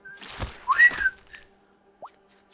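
Short whistled tones from the deckbuilder game Shroom and Gloom: a rising-falling whistle near the start, a brief upward chirp about a second later, heard alone over a quiet background.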